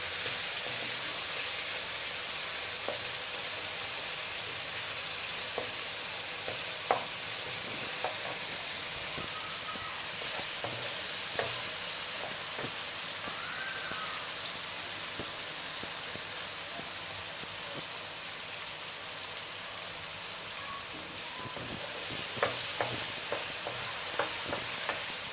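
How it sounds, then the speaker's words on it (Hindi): Whole dried red chillies fry in hot oil in a pan while being stirred, a steady broadband sizzle with occasional scraping clicks and light taps from the spoon, fairly close and continuous without any talk. "अब इसमें हम डालेंगे लाल मिर्च साबुत, एक से 2 मिनट के लिए हम इसकी भुनाई करेंगे।"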